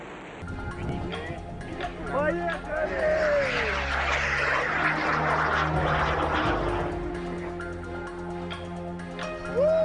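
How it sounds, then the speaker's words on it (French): A Soyuz rocket lifting off from French Guiana, a deep, broad roar that swells and holds steady for several seconds under a voice speaking. "Décollage réussi pour Soyouz."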